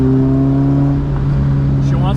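A Fiat X1/9 engine cruising steadily in third gear at about 4,000 rpm and 43 mph, a constant loud drone with a rising hum at the end.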